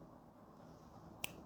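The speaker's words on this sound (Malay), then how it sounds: "Petik jari." A single sharp finger snap rings out near the end, crisp and isolated against a quiet, faint room background.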